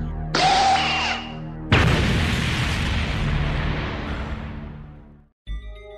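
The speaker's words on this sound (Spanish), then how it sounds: "El príncipe apunta en línea recta, calcula la distancia y dispara." An anime prince takes aim and fires a shot: a bright charging whine, then a loud booming blast that rumbles and fades over several seconds before a brief closing hit.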